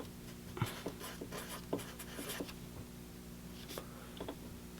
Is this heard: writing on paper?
yes